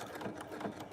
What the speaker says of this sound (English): So now we're gonna understitch, edge stitch that seam.